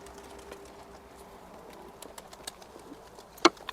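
Flight pigeons outdoors give faint, scattered calls over a low ambient hum, ending in one sharp, louder burst near the close.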